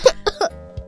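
A few short, sharp coughs in quick succession, close and clear, with a softer final hack after a brief pause.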